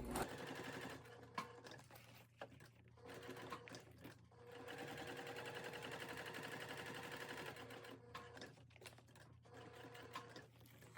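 A sewing machine top stitches a quilted fabric wallet, running in rapid mechanical bursts with brief pauses between stitching runs, close and steady with no talk.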